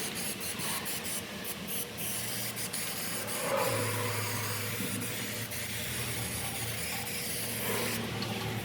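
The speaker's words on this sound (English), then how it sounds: "Got the weld through primer all sprayed." Weld-through primer hisses from an aerosol can onto a rusted GMC Sierra Denali truck frame in a series of short and longer sprays, with some rubbing and handling noise between bursts.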